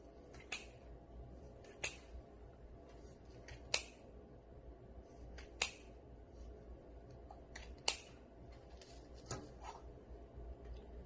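Scissors snip open folded ribbon pieces for a wreath, about seven crisp, separate cuts spaced irregularly over a quiet room background, close and moderately loud, with no talking.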